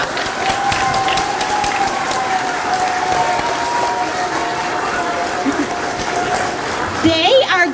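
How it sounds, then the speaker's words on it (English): A school assembly audience gives sustained, dense applause for first graders at a gratitude ceremony, steady throughout with crowd murmur mixed in and a brief louder swell at the end. "let's give them a round of applause"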